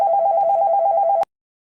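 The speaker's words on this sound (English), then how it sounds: "I received a client phone call and had to handle it." A telephone rings for an incoming client call, a loud, close electronic trill held steadily for about a second before it cuts off abruptly into silence.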